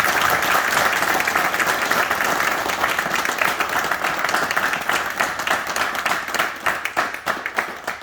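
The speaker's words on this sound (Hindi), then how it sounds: "एक बार तालियों के साथ इनका अभिनंदन करता हूँ।" An audience at an SBI employees' union gathering in Chandigarh breaks into sustained applause, dense overlapping clapping that stays loud for several seconds before thinning slightly toward the end.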